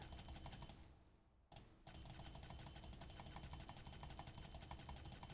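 Rapid, steady clicking while crafting items in the game Torchlight Infinite, a close run of evenly spaced clicks that pauses briefly and then resumes, with no speech.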